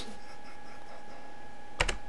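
Quick burst of computer keyboard typing near the end, a few crisp keystrokes close up after a quiet stretch of room hum.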